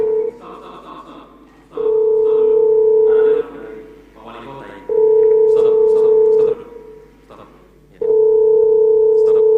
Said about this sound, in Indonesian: Ini Wali Kota Makassar telepon.